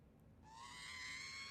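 A faint R2-D2 scream meme sound effect, a rising, warbling electronic squeal lasting about a second, dropped into a hip-hop beat and fading in at low volume.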